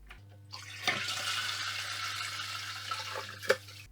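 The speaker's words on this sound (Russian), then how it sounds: "Дальше нужно смыть воду с бачка." A toilet cistern is flushed with the water supply shut off, a sudden rushing gush that drains steadily for a few seconds, with a couple of sharp clicks from the mechanism, nearby and over a faint hum.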